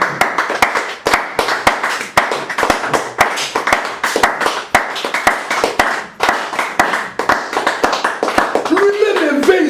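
A church congregation clapping and acclaiming the Lord, with loud rhythmic group clapping in a fast steady beat throughout and voices joining in near the end.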